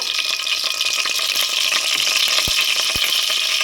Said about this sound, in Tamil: இப்போ தாளிப்போம் இப்போ தாளிக்கிறதுக்கு